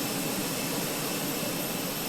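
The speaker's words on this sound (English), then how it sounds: "It's APU, it's what's powering the airplane right now." An Airbus A320 auxiliary power unit running in a Fenix A320 flight simulator gives a steady, loud, unbroken jet-like roar and hiss that stays even throughout.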